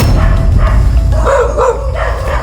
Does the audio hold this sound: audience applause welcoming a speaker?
no